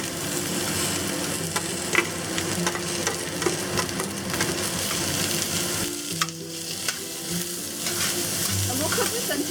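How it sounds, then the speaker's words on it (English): Onions, shallots and garlic sizzling in oil in a pan over medium-high heat, a steady crackling fry with scattered pops and stirring scrapes, moderately close and with no talking. "we'll cook this until the onions and shallots soften up"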